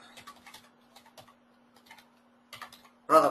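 Code being typed on a computer keyboard, quick clusters of light key clicks separated by short pauses, close and fairly soft, ending with a louder clack.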